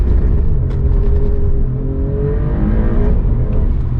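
A 2020 Alfa Romeo Giulia Quadrifoglio's 2.9-litre V6 bi-turbo engine revs loudly and close, its pitch rising and sweeping as it accelerates, with a throaty roar throughout.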